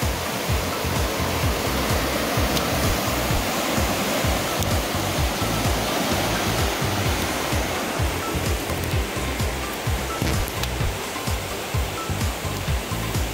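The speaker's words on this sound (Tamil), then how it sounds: "நல்லா சரியா தண்ணி ஓடுது." Water rushing steadily through Kakusenkei Gorge in Japan after a typhoon, a dense, continuous roar of flowing stream that stays loud and even throughout with no voices.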